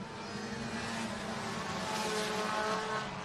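Sprint cars race through the turns in a heat race at Showtime Speedway. A fairly faint, distant roar of engines runs continuously, with no voices.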